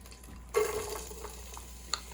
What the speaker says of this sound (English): I'm going to drop in one diced onion